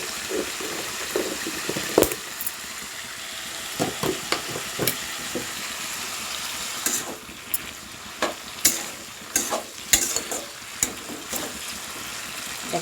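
Food frying in a pan while cooking santula, a steady close sizzle with scattered clicks and stirring clatters, no voices.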